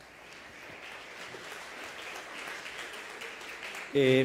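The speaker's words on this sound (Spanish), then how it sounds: "Lo vamos a recibir con un fuerte aplauso" Audience applause welcoming a speaker at a conference on artificial intelligence in human resources, a steady sustained clapping from a full room that swells slightly toward the end.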